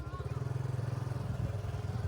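Motorcycle engine running steadily while riding, a close, pulsing low drone with a regular throb throughout.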